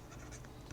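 A pen scratches steadily across paper while a Class 7 maths solution is written out, a close, continuous dry scribble with no pauses.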